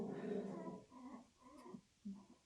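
Pet dogs indoors make short grumbling, whining and snorting noises, a few brief close vocal bursts with quiet gaps between them.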